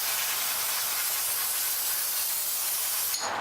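Aerosol cleaner sprays in one long continuous hiss, close and loud, onto the carburetor and parts of a neglected Husqvarna L65 chainsaw left out in the rain, ending with a short click.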